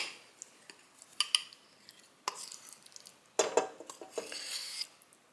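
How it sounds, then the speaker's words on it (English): Thick, cooled homemade toffee sauce being worked into a butter mixture for a sticky toffee cake: irregular bursts of close spoon scraping and clinking against a bowl, separated by short quiet gaps, with no talking. "Now I'm just going to add some of the toffee sauce that I made earlier to the kind of butter mixture"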